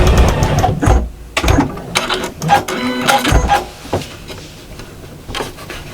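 A sewing machine stitches a seam on a Santa gnome cushion in several short mechanical bursts of rapid whirring and clicking, close up, with pauses between runs.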